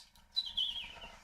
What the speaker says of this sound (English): There's the normal sounds of the forest awakening and your bird song